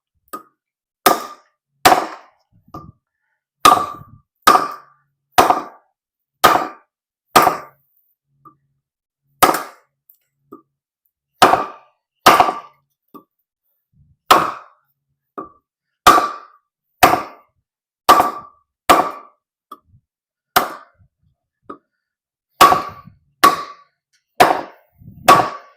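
A GTKii GTK36 survival knife with a large DC53 steel blade chops into a big log, giving sharp, loud, evenly spaced woody thwacks in bursts with brief pauses, close by and with no talk.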